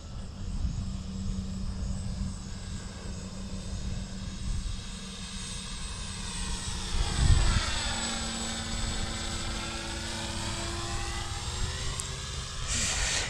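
A Carbon Cub S2 light plane drones steadily in flight, its propeller and engine hum continuous and close with a slight pitch sweep midway.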